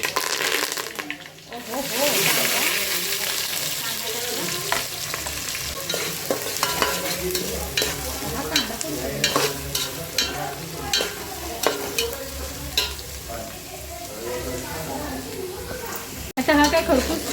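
Cumin seeds and curry leaves tempering in hot oil for Khandeshi dal, a bright crackling sizzle with spoon stirs and scrapes in the pan, a voice talking over it at times.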